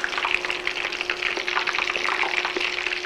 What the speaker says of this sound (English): let them continue frying until they're golden brown